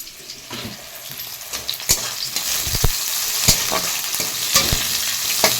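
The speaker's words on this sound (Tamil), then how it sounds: "இது கொஞ்சம் நல்லா வதக்கட்டும்" Ingredients sauté in a pan for a ponnanganni greens stir-fry, with a loud continuous sizzle broken by repeated clanking strokes of a spoon stirring against the pan.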